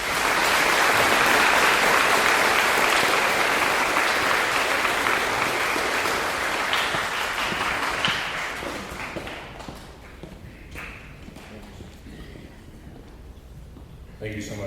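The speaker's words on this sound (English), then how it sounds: "Give her one more round of applause." An audience at a school veterans assembly gives a loud, dense round of applause that stays full for several seconds, then fades to scattered claps and room noise.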